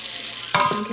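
Butter melting in a hot Instant Pot for French onion soup, with a low background hum that gives way to a sudden, close crackling sizzle partway through.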